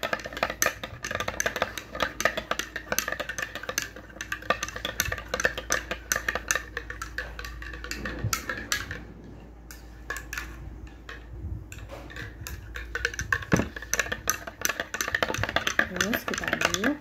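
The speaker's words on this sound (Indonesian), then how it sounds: "Lalu kita aduk hingga larutan tersebut tidak ada lagi bulir-bulirnya, sedikit tercampur dengan rata." A chemical solution made from a solid being stirred in a glass beaker, with rapid repeated glassy tinkling and clinking of the stirrer against the glass, continuing steadily with occasional talk.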